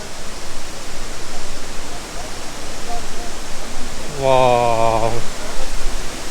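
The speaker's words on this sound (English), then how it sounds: "And as you can hear, a noise of the waterfall." Sekumpul waterfall in Indonesia roars as a steady, broad rush of falling water that fills the whole clip, loud and continuous, with a brief exclamation from a person near the end.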